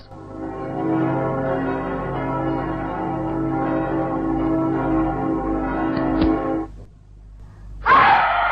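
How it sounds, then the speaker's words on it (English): A deep church bell tolls at midnight in a radio drama, a long, rich ringing tone that hangs in the air, then cuts off, followed by a brief sharp noise. "soon you will hear the midnight bells"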